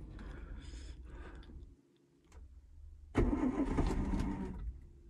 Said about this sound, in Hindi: इस -30 में 45 दिन के बाद गाड़ी स्टार्ट कर रहा हूँ, फिर भी एक से लंबे स्टार्ट